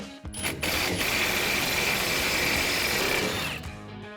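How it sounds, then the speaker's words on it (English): A power tool whirs for about three seconds while removing the four backing plate bolts from the axle flange of a classic Chevy C10 during a rear disc brake install, steady and loud up close, with metallic clicks at the start. "we're going to remove the 4 bolts holding the backing plate to the axle flange"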